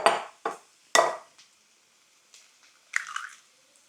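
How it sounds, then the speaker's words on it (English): Eggs are cracked for breakfast burritos: three sharp, close cracking taps in quick succession, followed by soft wet sounds of eggs dropping and shells being handled in a quiet kitchen. "We'll crack some eggs."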